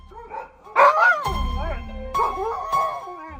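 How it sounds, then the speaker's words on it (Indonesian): Dogs howl and whine in rising and falling wails, several calls answering one another in quick succession. "muncul suara anjing melolong bersahutan dari kejauhan"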